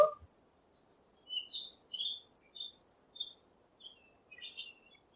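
A parrot calls in a series of short, bright chirping squawks, clear and fairly close over a faint steady background hiss.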